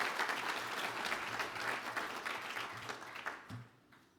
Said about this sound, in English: So please give her one more round of applause.